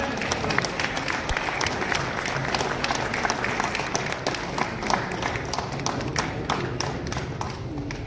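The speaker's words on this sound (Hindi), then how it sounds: "तालियों से स्वागत।" Audience standing and applauding to welcome guests at a gathering, a steady mass of hand claps with sharp individual slaps standing out, continuous and moderately loud.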